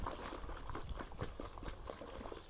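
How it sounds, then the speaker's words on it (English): Close, quiet splashing and sloshing of water as a paint brush is plunged up and down in a bucket, irregular and bubbly. "all I'm going to do is splash that up and down, making sure that I'm getting water all through the bristles"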